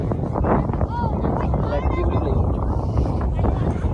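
Wind buffets the microphone in a steady low roar in cold weather at Ooty while a person talks over it.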